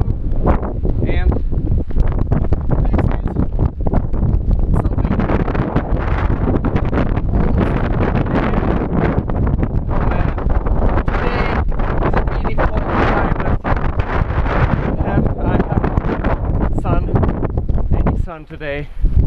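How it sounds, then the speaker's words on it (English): Strong, cold wind batters the microphone outdoors on a hiking route near a ruined château, a constant loud roaring rumble that buffets and gusts nearly throughout and drowns out much else. "There's a lot of wind"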